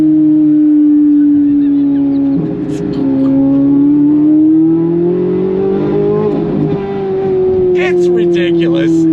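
A modified Chevrolet C8 Corvette Z06 engine, which redlines at 8,600 rpm, revs loud and close, its tone climbing and sliding across repeated throttle pulls.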